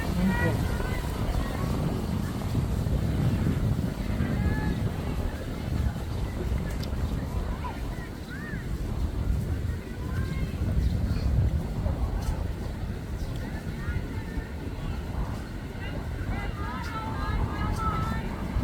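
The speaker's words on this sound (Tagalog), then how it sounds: "Super windy po. Super windy." Strong wind buffets the microphone outdoors at a game, a continuous low rumbling roar that swells and eases throughout, with people talking faintly underneath.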